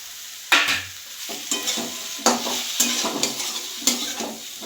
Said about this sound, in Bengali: এবার আলুটা দিয়ে একটু কষিয়ে নেব মশলাটা